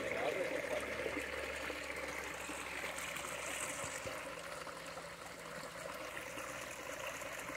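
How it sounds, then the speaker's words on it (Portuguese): Clear spring water flowing steadily from a natural spring on a farm, a continuous broadband rush and trickle heard close and fairly loud throughout, with faint voices in the background. "Olha a água chegar aí cristalina."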